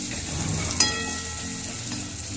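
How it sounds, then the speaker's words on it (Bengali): Chopped onion fries in a pan with a continuous close hiss and crackle, marked by one sharp metallic clink of a utensil against the pan early on. "সামান্য পরিমাণ আমি কিছু পেঁয়াজ কুচি দিয়ে দেব। পেঁয়াজটাকে একটু ভাজা ভাজা করে নেব।"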